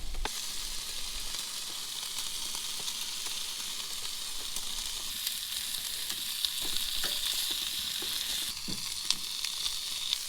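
Small skin-on trout fillets fry to a crisp in hot oil, a steady bright sizzle with crackling pops running the whole time and a brief stir partway through.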